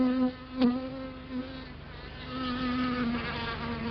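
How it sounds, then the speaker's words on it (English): A worker bee buzzes steadily and close while gathering pollen from pumpkin flowers, a continuous droning hum that swells briefly near the start and then holds at an even level. "A worker bee gathering pollen will only visit flowers of the same species on each trip."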